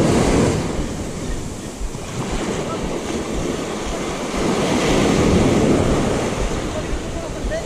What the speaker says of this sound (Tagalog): medyo lumalakas na yung alon natin